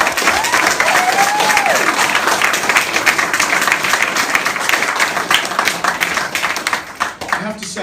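A crowd at a football club awards night breaks into loud, sustained clapping and cheering that continues steadily before tapering off at the end, with voices audible among the applause.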